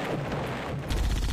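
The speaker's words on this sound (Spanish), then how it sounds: "Alguien me está disparando" Gunfire in a Roblox video game: dense, rapid bursts of shots, growing louder and heavier toward the end, with no talk over them.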